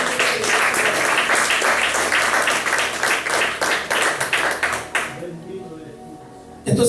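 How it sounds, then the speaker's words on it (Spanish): A church congregation applauding with steady, dense clapping that gradually thins and fades out toward the end. "Dele otro aplauso al Señor."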